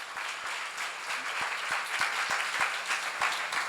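A seminar audience applauds continuously for several seconds, a dense, steady wash of many hands clapping with a few sharper individual claps standing out, heard up close.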